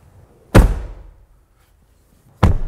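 Two solid, heavy thuds as the rear door of a 2022 Genesis GV70 2.5T is shut, close by, the second following about two seconds after the first, each with a short dull decay.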